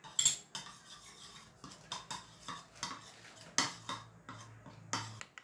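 A spoon stirs beef steak sauce with sweet soy, sesame oil and sambal in a bowl, giving a run of close, crisp clinks and scrapes against the dish at a steady, uneven rhythm.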